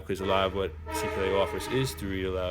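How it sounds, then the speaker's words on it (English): A train horn sounds from a passing train near a railroad, blaring in long tones beneath a person who keeps talking over it. "Sorry about the train, I live near the railroad."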